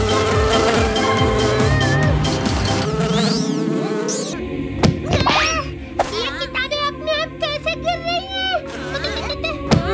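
Cartoon fly buzzing in a Chhota Bheem kids' animation, a busy whining drone mixed with music and sound effects, with characters talking over it throughout.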